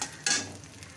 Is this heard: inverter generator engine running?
no